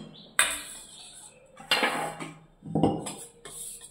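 Dal and curry are being served from pots into bowls in a home kitchen, with three bursts of dishes clinking and cutlery scraping. The sounds are close and moderately loud, separated by short quiet gaps.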